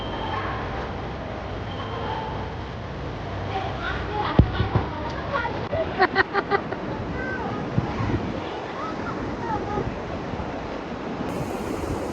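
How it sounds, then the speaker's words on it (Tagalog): Ocean waves surging and washing onto a beach at night in Thanh Hoa, Vietnam, with a steady broadband roar and wind noise, plus a few brief knocks and voices partway through. "Oh, lalaki ng alon."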